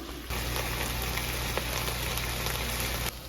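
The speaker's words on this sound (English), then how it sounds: "my turkey bacon is still frying" Turkey bacon fries in a pan with a constant crackling hiss, steady and close, with no voices.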